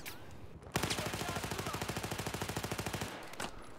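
Rapid automatic gunfire in the shooter game Battlefield 4, a long, evenly spaced burst of roughly two dozen sharp shots that starts abruptly and then cuts off, with no talk over it.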